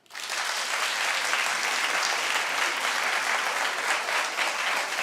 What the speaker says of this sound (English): Clap if he should.